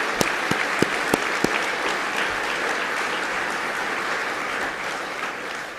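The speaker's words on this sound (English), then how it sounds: "let's give the rest of the group an applause as they return to their seats." A school audience claps steadily in sustained applause for a jazz band, dense and continuous, with a few sharp individual claps standing out early on.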